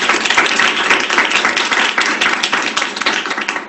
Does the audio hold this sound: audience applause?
yes